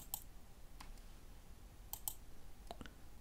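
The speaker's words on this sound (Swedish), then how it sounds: "Jag klickar på den lilla grå spara-knappen." Several crisp computer mouse clicks sound close and isolated against a quiet background as a small grey save button is pressed, with no voice.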